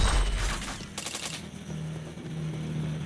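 Rapid bursts of automatic gunfire in the Point Blank shooter game, dense clattering volleys early on that thin out into scattered shots over a quieter hum.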